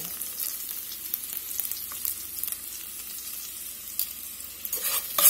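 Diced onion fries in butter and olive oil for garlic soup, giving a soft, steady sizzle with light stirring scrapes that grow louder near the end.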